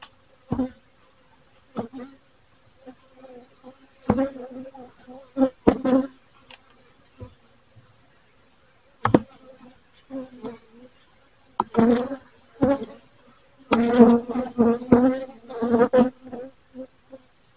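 Honeybees around an opened Flow Hive during an inspection make scattered buzzing bursts and passes close by, intermittent at first and then denser, with a faint continuous hum underneath.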